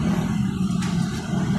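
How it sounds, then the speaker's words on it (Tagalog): Heavy street traffic fills the scene with a continuous low rumble of cars and trucks, a steady close engine drone with no single vehicle standing out. "Traffic talaga dito. Grabing traffic dito"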